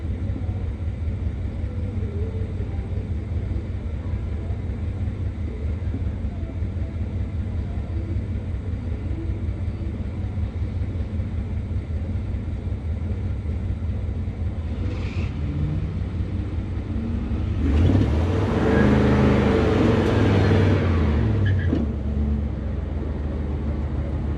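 A C4 Corvette and a Camry drag racing under the lights at a track, heard as a steady distant rumble that swells briefly into a louder roar of engines passing, then fades back into background noise.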